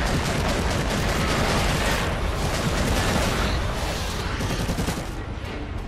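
Dense, continuous bursts of loud gunfire and explosions fill a battle in the video game Warhammer 40,000: Eternal Crusade, a relentless fusillade with no pauses.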